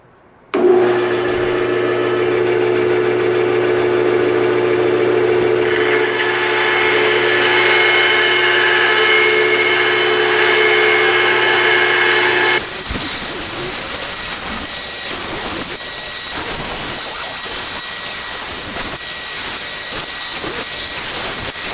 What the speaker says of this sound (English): now I'm going to take this to the bandsaw and cut this out